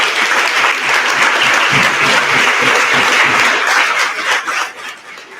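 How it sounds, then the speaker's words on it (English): An audience at a Western New York family-support event, Great Baby Beginnings, bursts into a loud, dense round of applause that holds steady throughout and tapers slightly near the end. "Round of applause"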